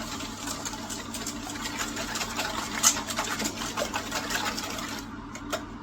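Baked custard ingredients are whisked with plain white sugar in a bowl, producing a steady, continuous rapid scraping and whirring close by, fairly quiet, running without pause until a brief stop near the end.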